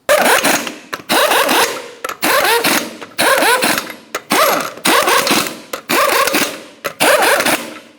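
A power impact tool spins lug nuts onto a rear wheel of a Ram 2500 pickup, about eight short, loud mechanical whirring bursts in a regular rhythm with brief gaps between them.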